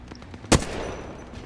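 A single sharp gunshot burst in the Apex Legends battle royale game, loud and close, rising abruptly from quiet game ambience and trailing off into a brief rumbling decay.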